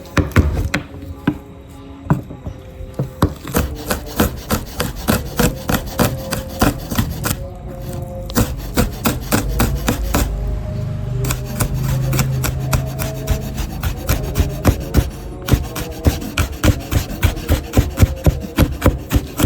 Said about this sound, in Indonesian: Kita akan geprek dan cincang ya teman-teman